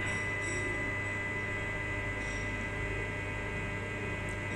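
A CWT Industries dynamic balancing machine spins a new Nissan GT-R VR38 crankshaft, a steady electric hum with constant whirring tones, even and unbroken at moderate level.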